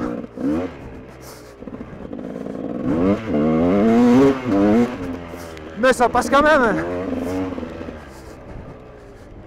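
A freshly repaired GasGas motorcycle is ridden hard through tight bends, its engine revving up and down in rising and falling sweeps. The rider talks over it.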